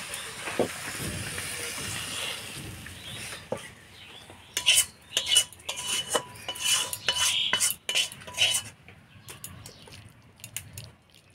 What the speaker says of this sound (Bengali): এবার গরম মশলার গুঁড়া দিয়ে নাড়াচাড়া করে নামা নিব।